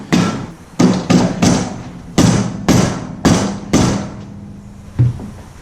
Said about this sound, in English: So I got a rubber dead blow, and I'm going to start it with this.